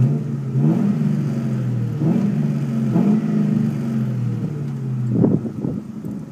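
A 2002 Mustang GT V8 with a catted MagnaFlow X pipe, Flowmaster Super 44 mufflers and 4-inch stainless MagnaFlow tips idles with a deep burble, then blips its throttle in several short, rising revs, with a sharper rev near the end.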